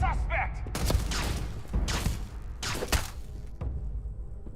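Gunfire in the space game Starfield: three heavy, booming volleys about a second apart, each with a sharp crack and a rumbling tail over a constant background bed.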